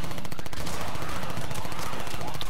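Rapid gunfire from weapons in the zombie shooter game Kill All Zombies, dense and continuous for the whole stretch, loud and close with a steady crackling texture.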